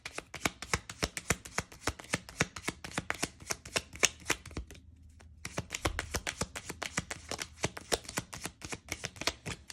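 Tarot cards are shuffled in a rapid series of crisp riffling snaps close to the microphone, with one brief pause partway through before the quick flicking resumes.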